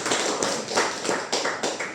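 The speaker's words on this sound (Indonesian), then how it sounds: "kita beri aplaus dulu langsung kita" Applause breaks out at a presentation event, a dense wash of clapping that swells in several rhythmic surges over two seconds, with no talking.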